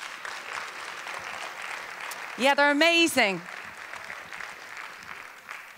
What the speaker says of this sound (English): can we please give them a massive round of applause as well?